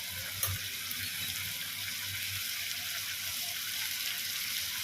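Chopped onion and tomato sauté in a pan, a continuous even sizzle with a faint low hum under it and one brief sharp tick near the start.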